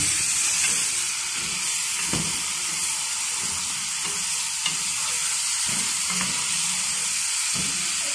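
About 1.5 kg of pork ribs fry in a pan for rice with ribs, giving a steady, loud broadband sizzle and hiss with occasional soft pops and a few clinks of stirring, with no one speaking.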